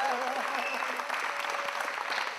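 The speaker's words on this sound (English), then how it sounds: "let's have a big thank you round of applause to our guest director today" A film crew gives a round of applause to a guest director on the Sin City set, dense steady clapping with some voices mixed in underneath.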